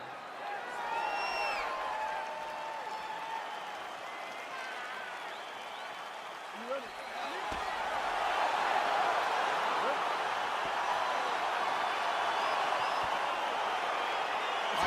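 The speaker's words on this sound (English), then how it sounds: "Crowd getting excited as this fight gets underway" A UFC arena crowd roars and cheers as a fight gets underway, a dense steady wash of voices that swells louder in the second half, with scattered shouts and whistles rising above it.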